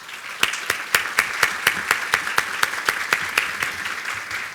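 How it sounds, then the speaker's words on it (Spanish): Audience applause for the speakers at a judiciary and citizenship forum, with steady, distinct claps from a modest crowd sounding fairly close and moderately loud, and no talking over it. "les podemos dar un aplauso a nuestros expositores"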